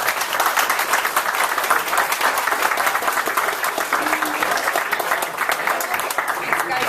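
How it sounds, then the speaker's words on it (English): A crowd at a Windham town public meeting breaks into sustained applause, many hands clapping steadily and loudly throughout, with some voices mixed in beneath. "I want to take this opportunity to give a big hand of applause to the town of Windham."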